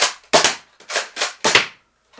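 A toy foam dart blaster fires five sharp, snappy shots in quick uneven succession, each a loud close pop with a brief tail, with no voices.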